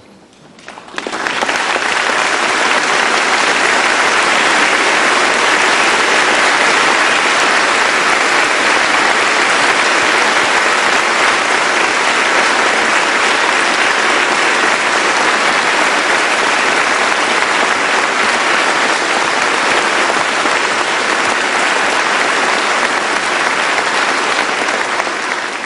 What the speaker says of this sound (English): I ask them now to stand to receive the tribute of your applause